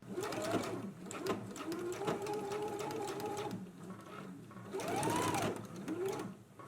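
A sewing machine stitches elastic in place on a pant leg, running in a steady whirring hum with short pauses and a couple of louder bursts, close and alone.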